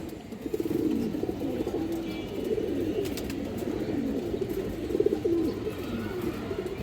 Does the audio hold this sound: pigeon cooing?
yes